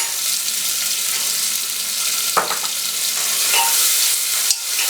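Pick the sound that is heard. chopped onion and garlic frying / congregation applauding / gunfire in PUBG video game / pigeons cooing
chopped onion and garlic frying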